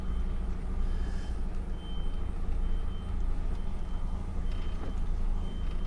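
Truck engine idling and rumbling low while the driver backs a trailer in a driving game, with faint steady reversing beeps riding over the continuous drone.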